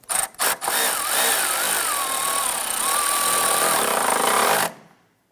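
A nut being snugged down on the exhaust manifold of a 1999-2004 Jeep Grand Cherokee 4.7L V8 with a power tool: a few short bursts, then a steady, loud, close whirring run of several seconds that cuts off abruptly.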